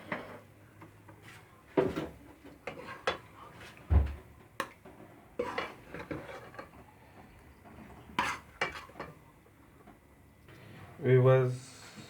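Utensils clink and scrape against pots and a dish as egg and potato curry is served, in sharp scattered knocks with quiet gaps, and someone speaks between the sounds.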